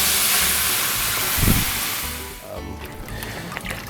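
Chicken broth pours from a box into a cooking pot for shrimp and grits, making a loud, steady splashing hiss that eases off partway through. Faint kitchen noise continues after the pour.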